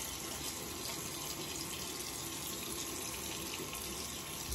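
Water runs from a tap while a Leaf Twig razor is rinsed of soap, a constant close hiss and splash that stays even throughout with no speech.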